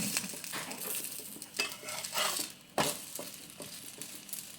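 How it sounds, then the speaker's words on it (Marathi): Bread slices frying in a pan until browned on both sides, a steady sizzle broken by sharper scraping and clinks of a utensil against the pan. "बघा असं आपल्याला दोन्ही साईडनं चांगलं असं भाजून घ्यायचं आहे आपल्याला"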